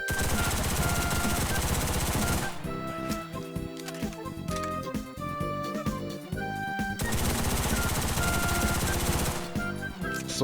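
Sustained full-auto bursts from a PP Shpitalny 1943 submachine gun in the WWII shooter Enlisted, a loud, dense stream of rapid shots that runs almost continuously, with short changes in texture between long strings of fire.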